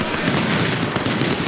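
Dense, continuous crackle of massed infantry musket fire from a Civil War battle at Chickamauga in the game Ultimate General: Civil War, loud and sustained with overlapping shots and no clear pauses.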